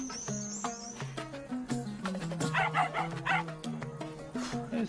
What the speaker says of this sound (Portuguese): Esse cachorro tá com problemas, velho.